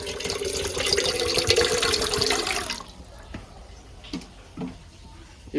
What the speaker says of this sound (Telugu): అందులోకి కొన్ని వాటర్ పోసుకుందాం.